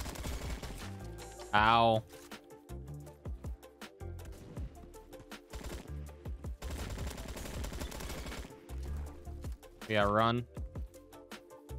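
Rapid bursts of automatic gunfire from the Roblox shooter Bad Business, AKS-74u in play, rattle in clustered volleys under excited talk and occasional shouts from players.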